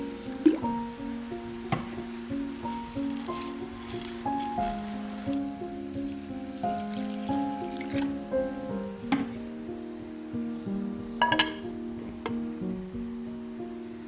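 Water drips and trickles steadily into a basin where noodles soak in room temperature water, with small liquid plops and occasional clinks at close range.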